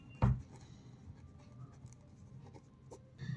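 A pen writing out a maths solution by hand for an arithmetic progressions problem: one sharp tap of the pen near the start, then a faint, steady scratch over soft background noise.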